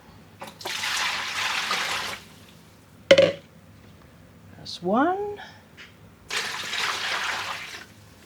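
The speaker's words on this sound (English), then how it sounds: "we are adding in the water" Water pours steadily into a pot for dyeing yarn in two separate bursts, close and fairly loud, with a brief clank and a short spoken phrase between them.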